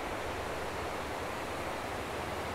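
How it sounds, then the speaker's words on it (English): The Ping River in Chiang Mai flows past with a steady, broad rushing wash that holds even and unbroken throughout, with no voices over it. "I've come to see the water and hear it, of course, down at my favourite little spot here."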